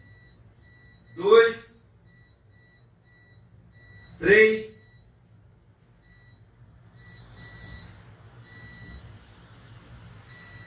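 Multimeter continuity tester beeping faintly while probing components on a smartphone circuit board, thin steady tones recurring under a man counting aloud, the beeps growing slightly more frequent toward the end amid a quiet background hum.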